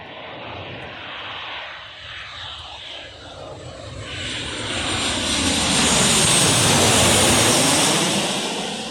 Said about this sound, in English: It's the Jet 2 Boeing 737s. First one to kick off the whole plane spotting session today.